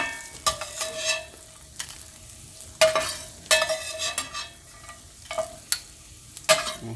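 Ingredients for a French-style kale saute sizzle in a pan while a utensil stirs and pushes them aside, giving irregular scrapes and clacks over a soft frying hiss.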